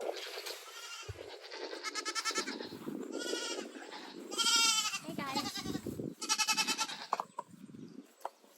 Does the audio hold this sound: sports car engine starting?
no